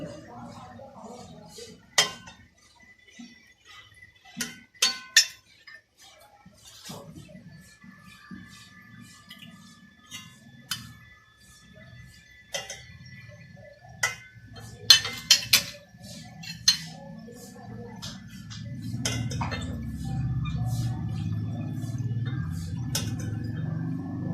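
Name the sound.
spoon clinking while dishing curry out into a serving dish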